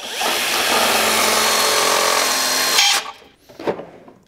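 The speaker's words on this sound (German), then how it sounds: "Ich bohre noch ein bisschen größer." A power drill bores out a lock at a filling station, running loud and steady for about three seconds before it stops. A couple of short clanks and handling noises follow.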